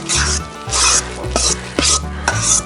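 A utensil scrapes and stirs shallots through a hot pan with braising liquid while cooking crappie, rhythmic rasping strokes about twice a second, close and loud with a faint sizzle beneath.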